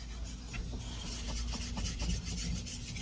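A kitchen knife is sharpened on a whetstone, giving a soft, steady scraping and rubbing with repeated back-and-forth strokes, close and quiet with no talking.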